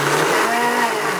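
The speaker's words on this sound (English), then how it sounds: "I'm going to pop this in a blender so we've got no lumps and bumps." Blender whirring loudly as it mixes raw chocolate with vanilla, a steady close motor drone throughout the short burst.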